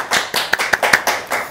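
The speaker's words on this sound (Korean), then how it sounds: "박수 부탁드리겠습니다." A few close, sharp claps from a small audience at a book talk, several quick separate hand strikes in a short burst.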